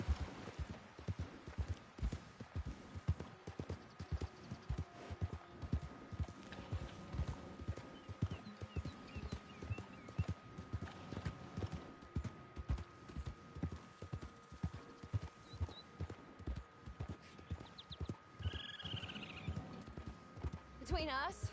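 Galloping horse hooves in the Red Dead Online video game, a steady rapid clip-clop running throughout, with a brief whinny near the end and someone talking over the hoofbeats.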